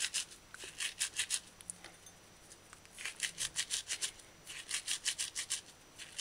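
Rosemary leaves are ground fine by hand, giving faint, quick, rhythmic scraping strokes in three bursts of several rubs each, with short quiet pauses between.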